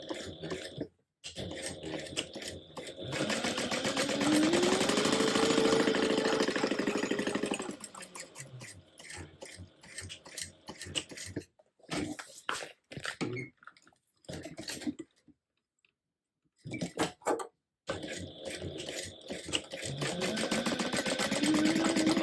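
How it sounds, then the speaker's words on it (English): A sewing machine stitches a fabric binding strip for a pouch, running an eighth of an inch from each edge in steady whirring bursts broken by short pauses, fairly close and loud with no talking. "I'm going to stitch 1/8 of an inch away on both sides of my binding strip."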